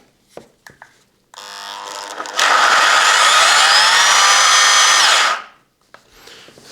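A Parkside PPEXS 750 A1 eccentric sander starts up with a few clicks, then runs at a loud, steady high whine for about three seconds before winding down, close by.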